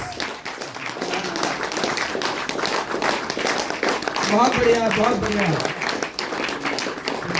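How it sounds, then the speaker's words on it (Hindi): An audience at a stage celebration event in Shimla applauds as a guest walks onto the stage. Steady clapping runs throughout and swells near the middle, under someone speaking loudly over it. "तालियों में कमी नहीं होनी चाहिए"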